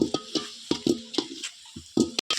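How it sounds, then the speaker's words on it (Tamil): Ginger garlic paste sautéing in a pan at home for chicken biryani, with soft repeated stirring scrapes and a faint sizzle in short bursts, close and fairly quiet. "இஞ்சி பூண்டு பேஸ்ட். நல்லா வதக்கணும்"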